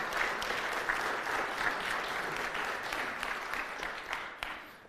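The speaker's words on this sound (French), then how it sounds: "Est-ce qu'on peut les applaudir, ceux qui ont organisé ça?" An audience at a French-speaking church event applauds the organizers, a dense round of many hands clapping that is strongest at the start and gradually fades toward the end.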